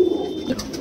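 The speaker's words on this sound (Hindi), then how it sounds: "बहुत ही अच्छा कबूतर है, जवाबी कबूतर होगा, लाजवाब कबूतर है बिल्कुल।" Pigeon cooing close by, a single soft, low throaty coo lasting under a second.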